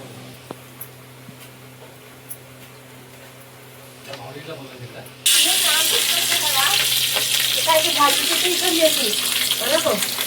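Tadka tempering for dhokla bursts into a loud, sudden sizzle of hot oil midway and keeps hissing and crackling steadily close by, while a person speaks before it and under the frying.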